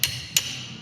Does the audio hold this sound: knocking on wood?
no